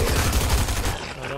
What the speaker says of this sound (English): The AI is shooting.